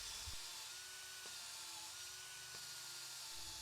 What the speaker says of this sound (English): I like to set my drill on a slower setting.